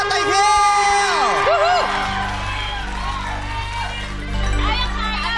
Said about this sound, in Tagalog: Sang malakas na palakpakan at hiyawan para kay Tatay Hill!